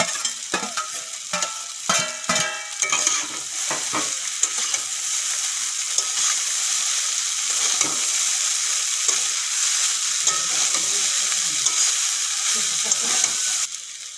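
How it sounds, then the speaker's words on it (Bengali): Boiled noodles tossed with egg in a hot pan for egg chow mein, giving a steady loud sizzle with repeated scraping stir strokes near the start, then continuous frying hiss. "তারপরে সিদ্ধ করা নুডলস দিয়ে দেবো দেখুন একটার সাথে একটা মেলে নিই"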